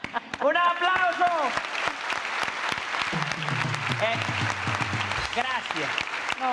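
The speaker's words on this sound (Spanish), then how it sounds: "¡Un aplauso!" A show audience breaks into applause while voices call out and speak over it, a loud sustained wash of clapping that runs under the talk throughout.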